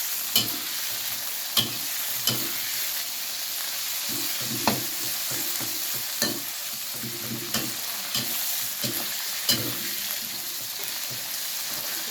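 Grasshoppers deep-frying in oil bubble and sizzle steadily up close, with regular scraping stirs and sharp clicks of a utensil against the pan.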